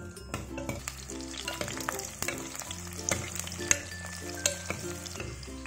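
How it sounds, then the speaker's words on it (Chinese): Whole single-clove garlic fries and sizzles in hot oil in a wok, a steady crackle with clicks of stirring, close and fairly quiet, with no voices. "热锅下油，倒入独蒜，把独蒜慢慢煸香"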